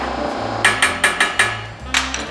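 A hammer taps a car body panel during bodywork repair, five evenly spaced sharp metallic strikes close up, a pause, then two more taps, over a low background hum.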